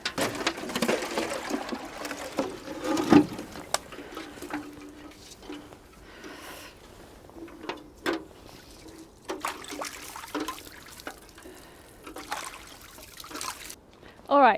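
Water poured out for garden birds at a snowy November allotment, short intermittent trickles and splashes with some rustling and handling noises, fairly close, with quiet gaps between pours.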